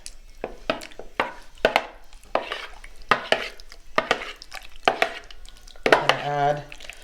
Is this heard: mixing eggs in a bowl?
yes